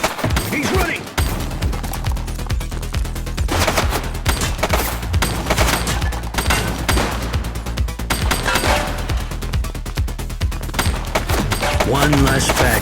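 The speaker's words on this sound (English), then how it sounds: "Shots fired!" Sustained gunfire in the police crime game The Precinct: rapid machine-gun bursts and scattered single shots rattle loudly and almost without a break across the whole stretch, with faint voices now and then underneath.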